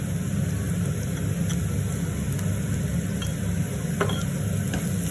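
Steady sizzling of soya meat curry with salt and turmeric in a hot pan, occasional soft scraping as it is stirred, continuous and close, no voices.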